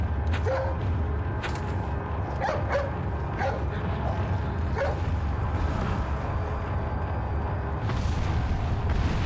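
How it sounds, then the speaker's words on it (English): A dog in Resident Evil 4 on the Wii barks and yips in a string of sharp bursts over a dense, rumbling game backdrop, the barks clustered early and then thinning out. "Hey, it's that dog."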